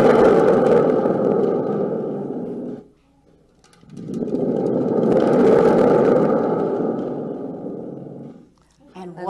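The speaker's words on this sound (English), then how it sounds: "This is called a thunder drum." A thunder drum made from a gourd, with a membrane and a dangling spring, gives off two long, loud rumbling roars separated by a short pause, each swelling and then dying away.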